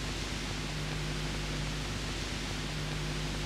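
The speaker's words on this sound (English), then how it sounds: "This idea, which was to start with noise." Synthesized noise generated in Ableton, a constant dense hiss of broadband noise with a faint steady low hum beneath, unbroken and even in level for the whole stretch.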